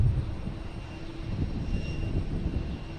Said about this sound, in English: We got JetBlue heading to Orlando.